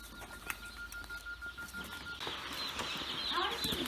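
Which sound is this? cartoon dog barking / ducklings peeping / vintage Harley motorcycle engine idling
ducklings peeping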